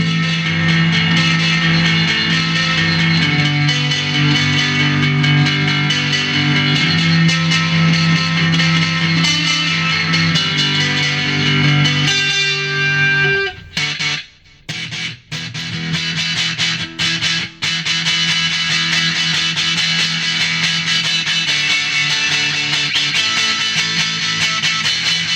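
An electric guitar is played through a MUZA GP300 multi-effects pedal with a single delay repeating at the same volume, giving a thick, sustained tone; it plays steadily, briefly drops out near the middle, then resumes with choppier notes.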